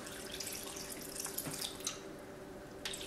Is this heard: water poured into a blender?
yes